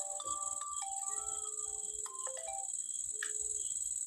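A phone ringtone for an incoming call plays a bright melodic tone sequence in a carpentry workshop, steady and fairly loud for several seconds over a high constant hiss, with no talking.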